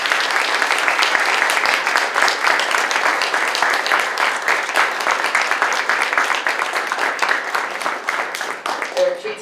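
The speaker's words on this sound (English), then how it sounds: "Can we give another round of applause?" An audience at an event reflecting on DACA breaks into sustained applause, a loud, dense wash of clapping that runs steadily throughout and fades slightly at the end.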